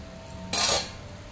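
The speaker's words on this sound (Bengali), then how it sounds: "এবার ঢাকনাটা সরিয়ে দেখবো সবজিগুলো কতটা সেদ্ধ হয়েছে।" Lid lifted off a cooking pot of fish and vegetables, a single short metallic scrape and clink up close in a quiet kitchen.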